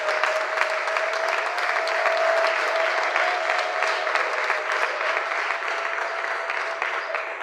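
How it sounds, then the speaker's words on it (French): A church book-launch audience applauding and cheering for the Lord, dense sustained clapping from a large crowd filling the room, with a steady tone and occasional voices mixed in. "Est-ce qu'on peut acclamer encore davantage le Seigneur?"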